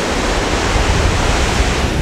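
Steady broadband roar of ocean surf at Petitenget Beach in Bali, dense and continuous with a low rumbling swell, close and loud with no voices over it.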